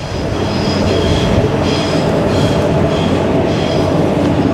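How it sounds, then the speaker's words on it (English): A train rumbles past overhead on a bridge by Sydney harbour, heavy and loud, with a steady rolling roar, metallic rattling and faint squealing wheels; no voices. "Another train passes overhead up on the bridge."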